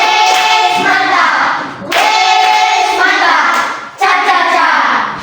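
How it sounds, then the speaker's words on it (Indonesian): Children in a primary school classroom perform a group appreciation clap, loud and close, in three rhythmic bursts with voices chanting along and brief pauses between rounds. "Mari kita berikan apresiasi kepada kelompok 1. Tepuk apresiasi."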